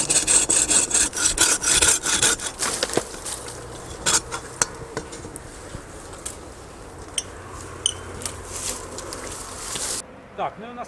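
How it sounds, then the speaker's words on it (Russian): A hand saw cutting through a fig tree branch during pruning, with rhythmic rasping strokes that are brisk at first, then slower and more uneven, close by, with someone talking at times. "Будем пилить."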